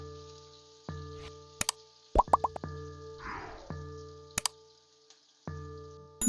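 Pieces of broken dried red chilli drop into a pan with garlic while cooking red amaranth saag. A few sharp, scattered plops and clicks land over a quiet, steady tonal background.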